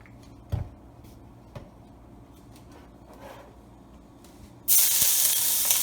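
Oil hitting a hot wok while making gravy for Cantonese boneless chicken erupts into a loud, steady sizzling hiss that starts abruptly near the end, after a few quiet clinks and knocks.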